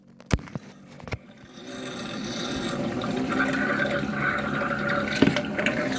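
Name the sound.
water flowing from DCS water dispenser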